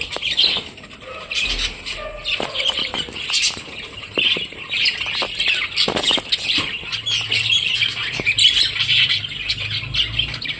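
Harsh budgerigar squawks repeat in busy bursts, some near, some overlapping, with light rustling and flutter underneath.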